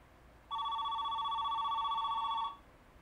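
A telephone rings in a TV drama episode, one steady electronic trill lasting about two seconds, clear and close against a quiet background.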